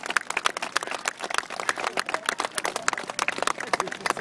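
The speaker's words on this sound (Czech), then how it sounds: "Myslím si, že i tohle si zaslouží potlesk." Audience applause at an army reserves festival in Děčín after a krav maga self-defence demonstration: a dense, steady burst of many hands clapping that carries at even strength throughout, with no voices above it.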